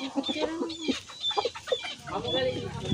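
Chickens clucking in a backyard in Barangay Lanang, Aroroy, Masbate, a run of close, uneven clucks and short calls with a hint of crowing, while a voice talks faintly underneath.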